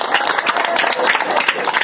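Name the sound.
applause for a cow at a cattle market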